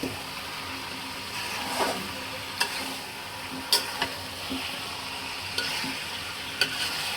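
Potatoes and poultry chicken fry with spices in a pan under a steady low sizzle, punctuated by several sharp clinks of a spatula striking the pan as it is stirred.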